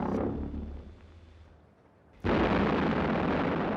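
A V1 flying bomb exploding during the 1944 bombardment of London: after a fading rumble and brief lull, a sudden loud blast erupts and rolls on as a sustained roaring boom.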